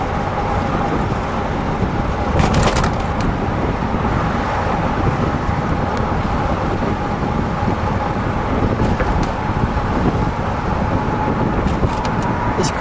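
A 1965 Cadillac Eldorado convertible cruising with the top down, a steady road roar mixed with heavy wind buffeting across the open cabin, loud and continuous with a few brief thumps.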